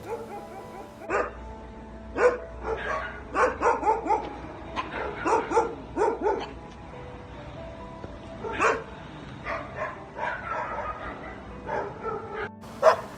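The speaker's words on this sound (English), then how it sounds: "I saw Jin interacting with a dog" A dog at a dog meat farm barks repeatedly and whimpers in irregular bursts, moderately close, with short yips between louder barks and no talking.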